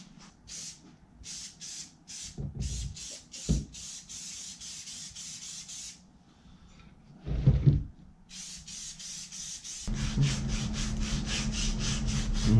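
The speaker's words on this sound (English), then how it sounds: "Get this sanded smooth" A backhoe part is sanded smooth in repeated short strokes, a rasping scrape in bursts separated by pauses, with a louder continuous machine hum joining near the end.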